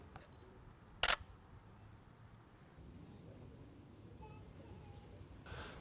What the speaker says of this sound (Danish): Så nu tager jeg et billede med Canon'en.